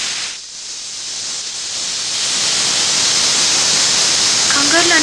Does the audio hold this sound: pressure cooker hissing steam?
yes